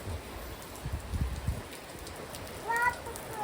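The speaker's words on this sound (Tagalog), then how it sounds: "Yo, lakas ng ulan ngayon." Heavy rain falls steadily at a beach during a cold day, a broad hiss with low thumps, while a voice briefly talks over it near the end.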